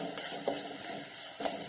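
Cabbage, spring onion whites and other vegetables are stirred in a hot pan for dry cabbage manchurian, with a soft continuous sizzle and occasional scraping clicks of a spatula, close and fairly quiet.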